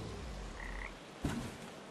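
Frog croaking in the video game Papo & Yo, a faint short croak over quiet game ambience, with one louder burst near the middle.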